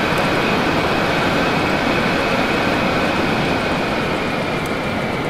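A biplane in a video game drones loudly and steadily as it flies. Its dense engine roar with a faint whine stays constant throughout, and no one speaks.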